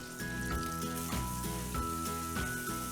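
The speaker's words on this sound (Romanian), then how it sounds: "După ce am rumenit creveții, voi pune ceapa în aceeași grăsime." Chopped onion sizzles in the fat left from browning shrimp for Greek shrimp saganaki, a steady close crackling hiss that runs throughout with a faint tonal hum behind it.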